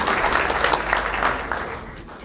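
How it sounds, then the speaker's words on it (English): A short burst of audience applause at a county board meeting, brisk clapping that fades out after about two seconds. "Let's give a round of applause for Gala."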